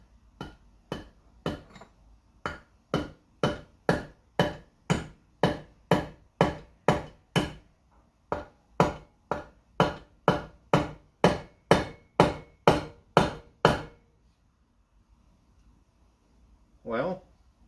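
A small hammer taps an extractor into a broken exhaust manifold bolt in an LS cylinder head, giving around two dozen crisp, evenly spaced metallic strikes that pause briefly midway and then stop, followed by a short burst of speech.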